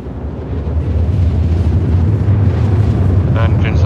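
Engines of a Redeemer gunship in Star Citizen roar as a dense, loud low rumble with a windy, eruptive texture, continuous throughout with faint higher tones near the end.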